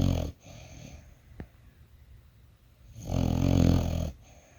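A sleeping dog snores softly inside a vehicle: a faint snort early on, then a longer, louder rasping breath toward the end, set against a quiet background.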